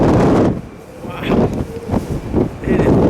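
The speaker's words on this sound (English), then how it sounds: "It is windy. It is cold." Strong, cold wind gusting outdoors in Denver, buffeting the microphone with low rumbling bursts while someone talks and exclaims over it.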